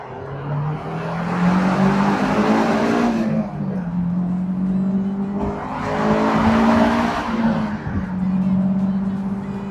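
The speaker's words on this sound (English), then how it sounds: "Let's see what this S2000 VTEC can do. Downshift in a second." A Honda S2000 with VTEC engine revs hard in two loud surges, engine pitch climbing through each gear before dropping sharply on downshifts, close and continuous with faint voices in the background.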